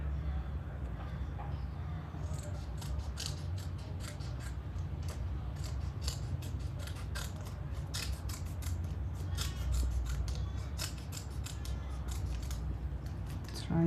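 Scissors cutting paper at a handmade decor craft table, a long run of close, crisp snips and rustles repeating steadily over a low background hum.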